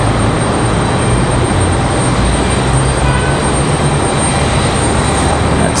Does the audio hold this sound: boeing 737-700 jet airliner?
yes